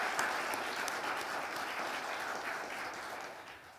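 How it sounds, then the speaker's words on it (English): Audience applause at a mural unveiling, a dense steady clapping crowd that stays fairly even and fades slightly toward the end, with no voices over it. "I'm like, we can clap to that."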